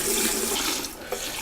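Liquid brine mix pours into a brining bucket holding a 13.5-pound turkey, a steady close splashing gush that tapers off near the end.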